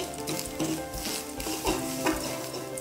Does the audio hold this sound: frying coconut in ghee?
yes